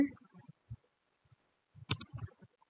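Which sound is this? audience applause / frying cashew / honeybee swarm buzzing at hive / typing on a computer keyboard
typing on a computer keyboard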